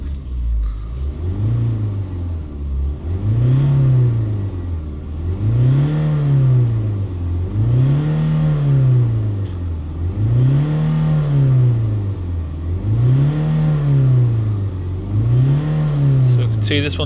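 A Ford Transit van engine is revved repeatedly while stationary, about seven evenly spaced rises and falls in pitch, close and steady, with a voice talking over it.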